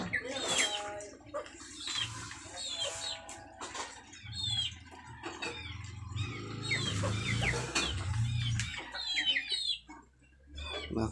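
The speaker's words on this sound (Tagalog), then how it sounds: "Manok." Chickens cluck and squawk nearby in a scattered, irregular chorus, with a soft voice speaking underneath at moments.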